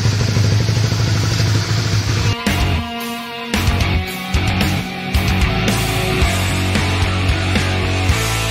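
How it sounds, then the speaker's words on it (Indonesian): A modified Honda CB150R with keyless ignition idles close by, a steady mid-pitched engine hum with clattering and a few brief dips and revs, and no talking over it. "Motor gue masih nyala nih."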